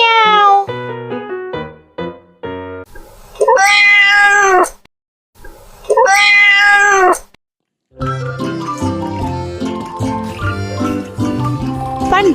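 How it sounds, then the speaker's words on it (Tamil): A kitten gives two drawn-out, rising-and-falling meows, each clear and close, set between bright plinking musical notes and followed by busy background music. "பூனைக்குட்டி எப்படி கத்தும்?"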